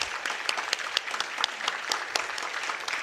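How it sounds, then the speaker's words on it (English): Audience at a book release during a national seminar on psychology and homoeopathy breaks into dense, continuous applause, many hands clapping close by with no voices above it. "And a big round of applause from everybody."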